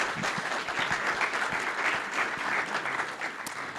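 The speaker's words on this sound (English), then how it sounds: "Yeah, round of applause for Sean." Steady applause from a conference audience at a panel event, dense continuous clapping filling the room at an even level throughout, with no speech over it.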